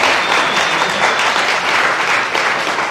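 Audience at the final of an inter-IAE eloquence contest gives close, loud, dense applause that continues steadily throughout without talk.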